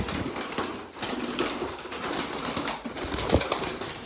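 Pigeons offered for sale shuffle and flap their wings in a loft, soft scattered fluttering and rustling bursts at close range, fairly quiet, with no talking.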